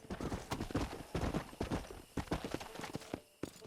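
War horse hooves clip-clopping in Red Dead Redemption, a busy rhythmic stream of close hoofbeats over game noise, with a brief lull near the end.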